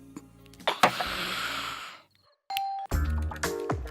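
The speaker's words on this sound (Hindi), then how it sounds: "आधी रात को बेल बजा रहा है?" A doorbell rings at midnight: a clear electronic ding-dong chime, heard after a burst of noisy rustling and a brief silence, followed by further rings and thuds close by.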